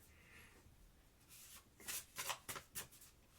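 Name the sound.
shuffling an oracle card deck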